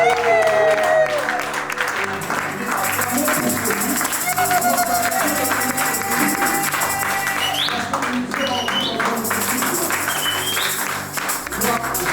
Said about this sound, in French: Je pensais qu'on pouvait acclamer pour Jésus.